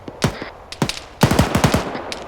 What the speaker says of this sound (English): being held up by sporadic gunfire from Sugar Company